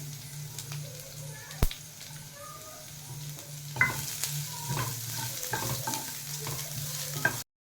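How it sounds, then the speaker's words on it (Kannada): Onion and curry leaves frying over a low flame in a pan, giving a steady close sizzle with a few sharp spoon clinks and stirring scrapes partway through. "ಕರಿಬೇವಿನ ಸೊಪ್ಪು, ಇವಾಗ ಇದಕ್ಕೆ ಅರ್ಧ ಈರುಳ್ಳಿ ಹಾಕ್ತಿದ್ದೇನೆ"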